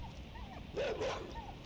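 A dog in the side-scrolling game Inside gives a short yelping bark with a whimpering rise and fall, fairly faint under low background rumble.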